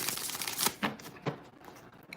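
Tarot cards being shuffled up close, a crisp papery riffle at first, then a few separate soft slaps and flicks.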